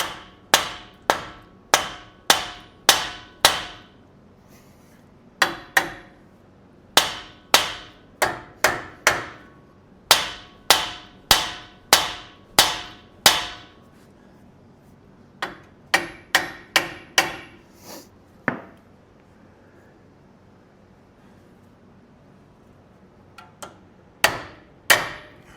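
Steel hammer blows ring out during a tie rod, drag link and track bar install on a vehicle's suspension, coming in quick bursts of sharp, loud metallic strikes separated by short pauses, with no talking.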